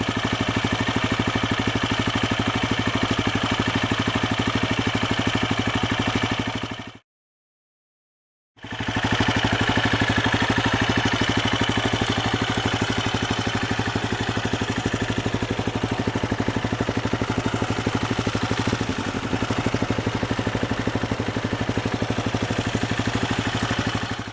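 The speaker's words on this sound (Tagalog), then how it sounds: "Wala nang fluctuation ha. Stable na yung RPM niya." A Benelli Imperiale 400 retro motorcycle idles at steady RPM, its engine producing a close, continuous even thrum with no fluctuation, briefly cut out once before resuming unchanged.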